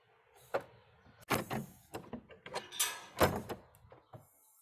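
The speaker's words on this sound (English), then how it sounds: "I'm just going to close the door." An indoor door being shut in a quiet room during a yoga class, with a run of bumps, a latch click and handling knocks spread over several seconds, fairly close and without speech.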